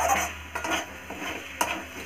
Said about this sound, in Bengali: চিংড়ি মাছটা দিয়ে দিয়েছি, ভালোভাবে নাড়াচাড়া করে নামিয়ে নেব।